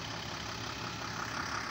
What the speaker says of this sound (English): 2500 diesel engine